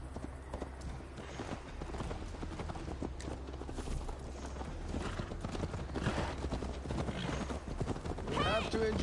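Horse hooves clip-clopping at a steady riding rhythm in Assassin's Creed Valhalla, continuous and close, with voices and background game audio layered over the hoofbeats.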